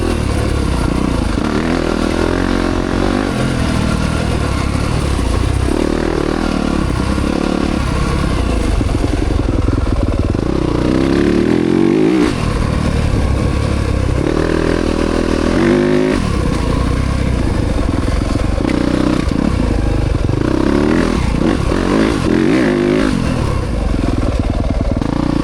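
A Yamaha YZ300FX dirt bike fitted with a 304cc Athena big bore kit is ridden on a track, its engine roaring loud and close without a break, climbing and falling through revs as the rider accelerates.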